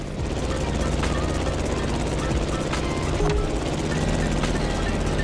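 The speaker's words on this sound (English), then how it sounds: "The plane has taken off, and it's on." A plane takes off in The Crew Motorfest racing game, its engine a loud, steady droning rumble with a constant throbbing hum throughout, and a voice talks over it.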